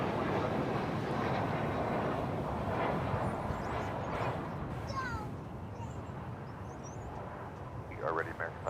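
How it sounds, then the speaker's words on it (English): An Airbus A320 airliner, American Flight 1850 arriving at DFW airport, makes a loud, broad engine roar that fades slowly, with faint bird chirps near the end. "It's an Airbus A320."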